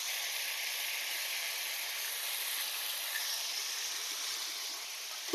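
Chopped tomatoes and mango leather sizzling in a pan with black mustard seeds for a Bengali tomato chutney, a steady even frying hiss that holds at a moderate level throughout.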